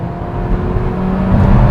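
A Kia K3 engine with its continuously variable transmission under full throttle gives a loud, steady, droning hum that swells slightly over a brief stretch, with no voices.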